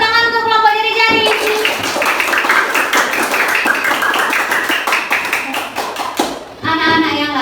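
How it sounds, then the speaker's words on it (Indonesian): Children in a classroom clap for a group's presentation, a dense burst of close, rapid applause lasting several seconds, framed by an adult voice speaking before and after. "Tepuk tangan untuk kelompok jari-jari."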